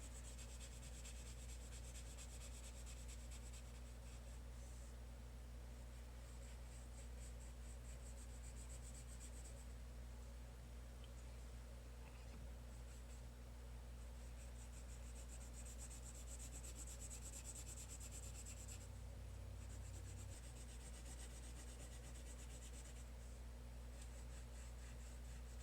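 Graphite pencil shading dark areas on paper for an optical illusion drawing, a steady soft rasping rub that continues closely and evenly throughout with no talking.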